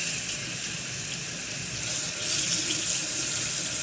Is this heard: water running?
yes